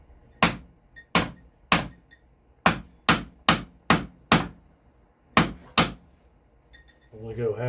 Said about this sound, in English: now I can actually register the chisel right in that scribe line